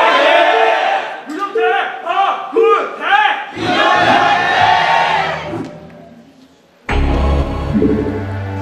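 An arena crowd at an esports match roars and chants together in loud, coordinated bursts, swelling and fading, then surging again after a brief lull.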